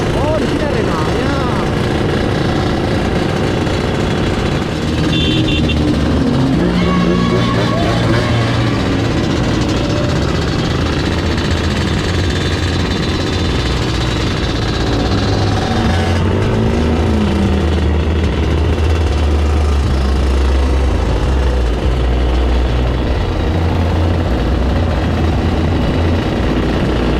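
Droning racing boat engines roar and shift pitch nearby at a waterside boat race, loud and continuous, with people talking over them.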